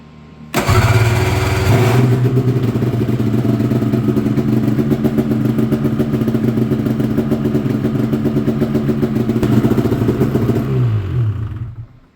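A Polaris Indy 600 snowmobile engine starts and runs for a short test, a loud, close two-stroke buzz that rises after ignition, holds a steady rattling idle for about ten seconds, then cuts off and winds down.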